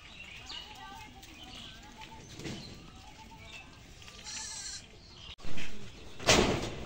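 Goats bleat a few times amid shuffling and rustling, with faint voices in the background and a couple of sharp knocks near the end.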